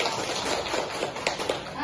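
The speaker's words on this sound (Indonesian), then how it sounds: "Tepuk tangan dulu untuk hari ini" A classroom of pupils claps together at the end of a lesson, a short, fairly soft flurry of hand claps with some voices underneath.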